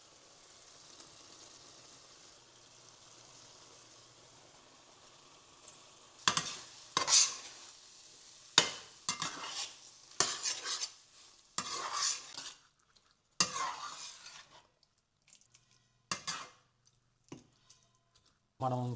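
A spoon stirring paneer bhurji gravy in a pan, giving a run of scraping, clattering strokes with short pauses between them and a faint sizzle underneath after a quiet start.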